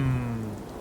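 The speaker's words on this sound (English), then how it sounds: "It's raining. Dude, it's raining." Steady rain falls in Fallout 4, a brief even hiss of drops under a low droning hum, with no voices.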